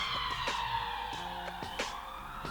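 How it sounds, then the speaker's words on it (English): A police siren wails steadily with a slowly falling pitch, fairly loud over a busy background of traffic noise. "Police sirens."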